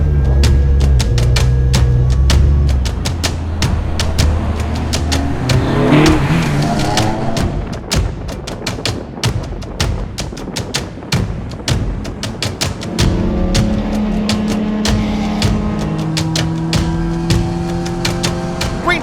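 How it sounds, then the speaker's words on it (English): Race cars roar off at the start of a race at Watkins Glen, a dense, loud wall of engine noise with revving surges and cars passing close by. "Flag flies, and we're green flag racing at Watkins Glen."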